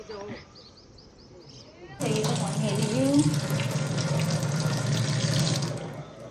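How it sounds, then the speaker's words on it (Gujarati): After a quiet stretch with distant bird chirps, tap water gushes into a clay pot, a loud steady pour lasting a few seconds before it stops, with a voice briefly beneath. "પાણી આવી ગયું ચલો તમે ભરીએ માટલામાં ભરી નાખીએ"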